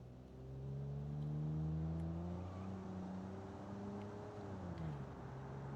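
A 200-horsepower truck with an automatic transmission drives off-road in a car-building simulation game. Its engine hums steadily and loudly, with its pitch rising and shifting as it pulls over rough ground, and no one speaks over it.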